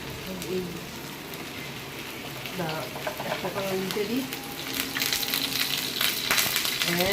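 Taro leaf fritters fry in hot oil in a home kitchen, a steady crackling sizzle that grows brighter and louder toward the end, with a voice talking over it.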